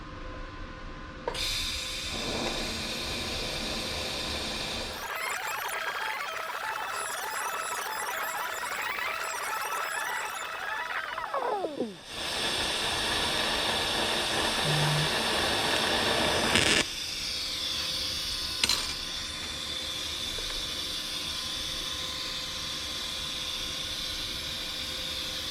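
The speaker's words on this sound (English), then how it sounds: "went around the entire flange, welded right over that big old crack" Close, steady buzzing hiss of TIG welding around a cracked aluminum flange on a Civic EG track car, running in long continuous passes broken by short pauses and a brief high squeal.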